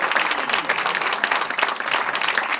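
Show audience claps loudly in dense, continuous applause, a close, full wash of many hands with a faint voice underneath.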